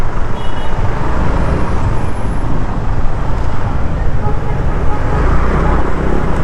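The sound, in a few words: road traffic in Davao City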